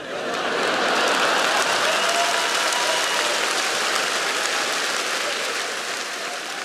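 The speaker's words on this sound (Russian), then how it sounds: "Аплодисменты." Loud, sustained clapping from a large audience, dense and steady throughout before easing slightly at the end.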